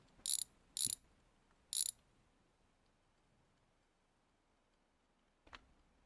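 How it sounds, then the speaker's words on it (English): A ratchet loosens the wheel bolts on a car in a garage, with three quick bursts of crisp, close clicking followed by quiet and then one more short rattle. "let's unbolt the wheel"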